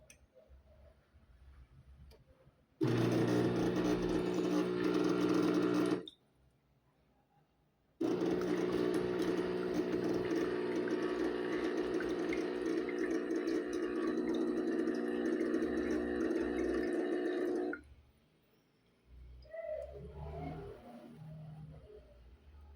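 A home espresso machine brews a short coffee with a loud, steady pump buzz in two bursts, a brief pause between them, then quieter gurgling and clinks as it stops.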